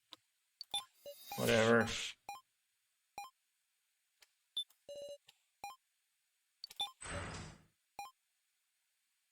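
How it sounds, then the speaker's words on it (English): Short electronic beeps and tones in the horror death-game visual novel Your Turn To Die, sounding as scattered single and double bleeps over several seconds, with a voice talking in between. "A lot of beeping. Beep, beep, beep."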